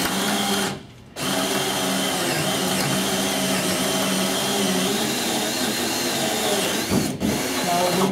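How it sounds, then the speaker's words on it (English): A handheld battery drill boring into poles whines steadily at close range, pausing briefly near the start and dipping again later, with the motor pitch shifting slightly under load. "Let me just get the poles drilled."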